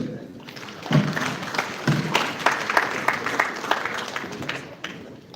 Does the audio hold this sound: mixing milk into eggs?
no